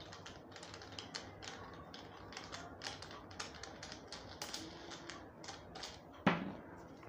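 A small screw on a Digitek monopod is turned by hand, giving a rapid run of faint, close ticking clicks, ending in one sharper knock near the end.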